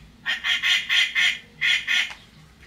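Six nasal quacks from a duck, close and loud, in two quick groups with a short pause between, no voices.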